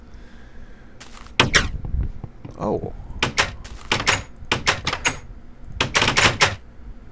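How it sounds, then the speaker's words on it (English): Wooden doors in the video game Minecraft creak and knock shut repeatedly in quick clusters. The clicks are fairly loud and close, and a brief voice exclamation comes in between them. "Doors make such a weird noise now since the full release."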